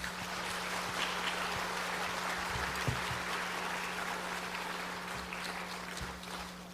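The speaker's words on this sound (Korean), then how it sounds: "우리 강사 목사님 나오실 때 우리 큰 박수로 환영하겠습니다." A church congregation at a Sunday evening service applauds to welcome a guest pastor, a steady wash of clapping from many hands held evenly throughout, with a low electrical hum underneath.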